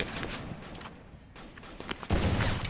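Rapid bursts of gunfire from the video game Free Fire crackle in an uneven run through a 4v4 match, the shots dipping briefly midway before a loud, dense volley closes the clip.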